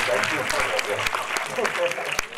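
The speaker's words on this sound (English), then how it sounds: "And I think a big clap for all these guys." Crowd clapping for the men at a special screening of Padman for women, a busy patter of hands mixed with voices and chatter, fairly close and steady for a couple of seconds.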